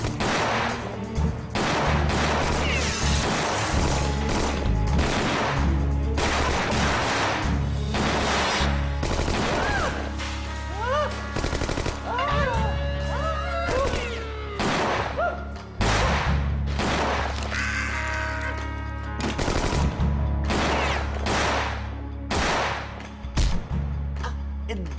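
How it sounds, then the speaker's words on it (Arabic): Gunfire exchange in an Egyptian comedy police film, rapid bursts of shots cracking repeatedly at close range, dense and loud throughout with music and effects layered beneath, no clear speech over it. "عمليات عمليات، في تبادل اطلاق نار جوه يا فندم."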